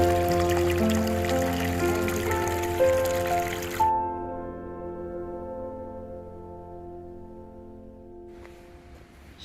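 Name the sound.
flowing water at an arboretum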